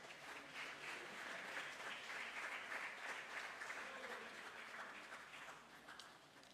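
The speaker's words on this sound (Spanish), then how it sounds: "Dale un aplauso al Señor" A church congregation breaks into applause, a continuous, even roar of many hands clapping that sounds somewhat distant and holds steady for several seconds without talk on top.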